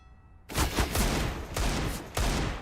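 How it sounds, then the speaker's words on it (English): Gunfire from Counter-Strike: Global Offensive starts abruptly as loud, continuous bursts of rapid shots, broken by two brief dips before firing resumes. "Nice shooting."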